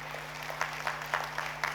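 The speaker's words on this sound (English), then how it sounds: "A huge round of applause for all of them." A conference audience at a national school sahodaya gathering applauds in a continuous dense patter, with a few louder claps standing out over a steady electrical hum.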